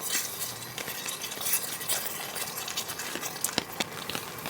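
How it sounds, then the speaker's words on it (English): A spoon stirs a thick tomato stew in a camping pot, soft wet scraping and sloshing in a quiet, steady rhythm, with rain pattering around the tent. "Stir that up."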